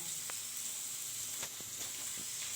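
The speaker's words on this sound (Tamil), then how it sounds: "இப்போ வந்து இது நல்லா டீப் ஃப்ரை பண்ணிக்கிறோம்" Food deep frying in hot oil for cumin rice, a steady bright hiss with a few faint crackles and pops, close and continuous, with no talk.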